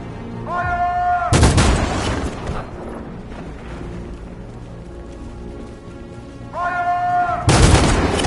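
Gunfire in a video game opens on a crowd of protesters: two loud, sharp bursts of shots stand out, one early and one near the end, over a continuous rumbling game soundscape.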